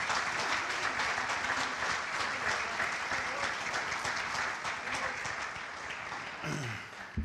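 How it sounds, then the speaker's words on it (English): Sustained audience applause in an event hall, honoring police, firemen, teachers and coaches; dense steady clapping from a large crowd throughout, beginning to thin out near the end. "So right now, I'd like to give them a round of applause."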